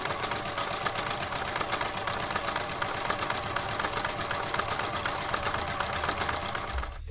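A Yamata sewing machine runs continuously at a steady fast pace, stitching a reinforced triple zigzag, giving an even, dense mechanical rattle that stops abruptly just before the end.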